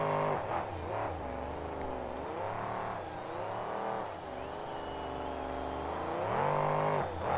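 A monster truck engine roars and revs continuously at a KORR Monsters show in Tacoma, WA, loud and near, swinging up and down in pitch through several throttle surges.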